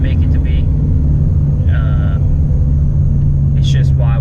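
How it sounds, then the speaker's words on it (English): A Subaru WRX making 500 wheel horsepower drives along with a deep, steady engine rumble and drone that stays constant throughout. It is heard from inside the car, with a few short bursts of voice over it. "what it's like to drive a 500 wheel horsepower WRX"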